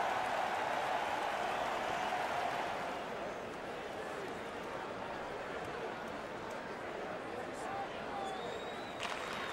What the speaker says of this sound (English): The home crowd is ecstatic with that decision.